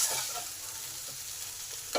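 Ground mustard, ginger and cumin paste frying in a pan, a steady close sizzle with a sharp stir or clatter at the end, no talk.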